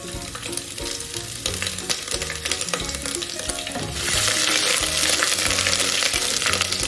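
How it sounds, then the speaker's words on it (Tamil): Cloves, cinnamon and star anise sizzle and fry steadily in a pan for egg biryani, with soft stirring clatter and a brighter, hissier burst of sizzling partway through. "கிராம்பு, கருவாப்பட்டை, மற்றது அன்னாசி பூ இவ்வளத்தையும் விட்டு அட்லீஸ்ட் 1 நிமிஷமாவது நாங்கள் வதக்குவோம்."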